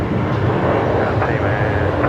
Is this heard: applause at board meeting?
no